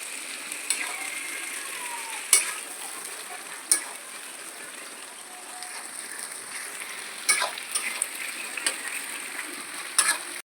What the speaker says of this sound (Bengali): এবার আমি কাঁচা লঙ্কা আর পেঁয়াজ একসাথে দিয়ে দিলাম।